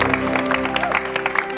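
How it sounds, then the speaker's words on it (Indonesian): A studio audience at an Indonesian comedy roast claps in steady, scattered applause, a dense patter of hands under a faint hum of crowd noise. "Tepuk tangan untuk Bapak Denny Cagur."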